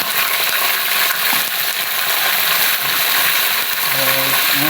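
Raw mixed vegetables with a spoonful of turmeric sizzle steadily in a hot pan, a dense continuous frying hiss with a few scrapes and clinks of stirring close by.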